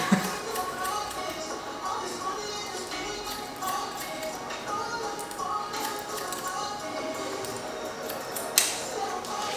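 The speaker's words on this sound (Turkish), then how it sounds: "o makasın o sesini özlemişim ya" Barber's scissors snip long hair close by in quick, repeated cuts while people talk in Turkish over the sound.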